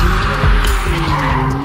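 Tires of a McLaren Artura hybrid supercar skid and squeal on a track, a loud continuous screech over the close engine roar for a couple of seconds.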